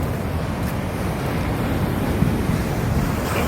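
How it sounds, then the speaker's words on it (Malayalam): Heavy rain and rough sea waves at Chethi fishing harbour in Alappuzha make a dense, steady roar of surf and wind with no voices. "മഴയൊക്കെ പൊടിക്കുന്നുണ്ട്, കടൽ കൂടുന്നുണ്ട്."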